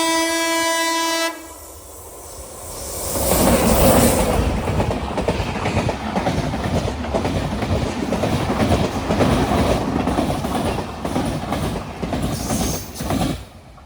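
A train near Vadakara on a line running beside the highway sounds a loud horn blast, then rumbles past close by with rattling wagons, clattering wheels and a brief squeal, fading slightly at the end.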